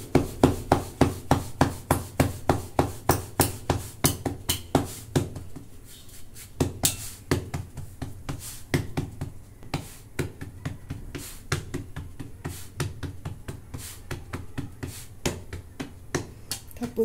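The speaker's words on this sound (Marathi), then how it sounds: "भाकरी थापून घेते" Bhakri flatbread dough, sprinkled with sesame, is patted by hand in a home kitchen, with quick rhythmic slaps repeating steadily, close and crisp, pausing briefly before resuming.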